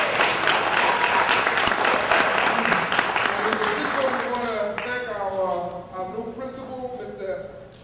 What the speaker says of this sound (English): So please, everybody give Wadley a round of applause